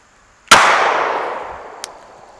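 A single sharp 9mm shot of 115 grain full metal jacket ammunition is fired into a stack of paper, loud and close, with a long ringing decay and a faint click afterward.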